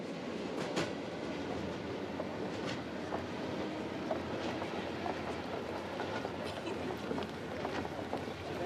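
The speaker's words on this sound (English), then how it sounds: "The last few miles of my journey into Vladivostok are along the Trans-Siberian Railway line." A train runs along the Trans-Siberian Railway line near Vladivostok, a steady, fairly quiet rumble with faint rhythmic clacks throughout and some voices underneath.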